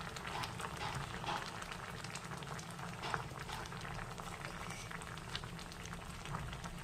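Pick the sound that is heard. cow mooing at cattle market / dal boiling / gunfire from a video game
dal boiling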